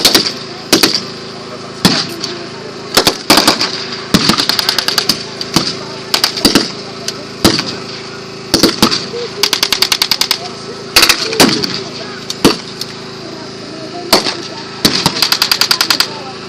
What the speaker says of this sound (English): As we now get suppressing fire from the armour support